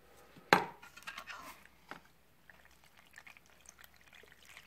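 Water is poured into a mixing container to start a plaster and PVA glue mix, a sharp splash at the start followed by faint trickling and small clinks.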